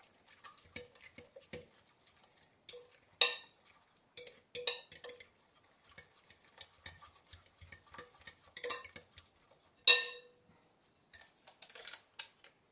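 Dried-fruit cake batter mixed with a utensil in a bowl, irregular clinks and scrapes of the utensil against the bowl, close and quiet, with short pauses between strokes.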